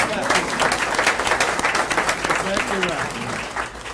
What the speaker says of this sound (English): we're gonna clap for her.